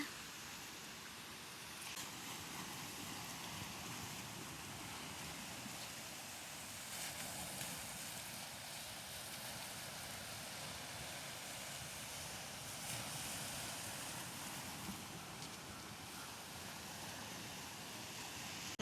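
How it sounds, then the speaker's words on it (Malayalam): Sea waves washing onto a rocky shore near St. Teresa's Shrine in Mahe, a steady broad rushing hiss that swells gently at times, continuous and fairly distant. "തിരമാലകൾ ഇങ്ങോട്ട് വന്നുകൊണ്ടിരിക്കുക."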